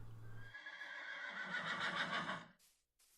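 A Minecraft horse gives one clear, drawn-out whinny lasting about two seconds, then a brief quiet with a faint soft tail.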